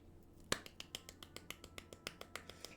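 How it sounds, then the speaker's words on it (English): Little soft hand claps, a quick, even series of about fifteen light taps, fairly close and quiet, with no talk over them. "Little claps."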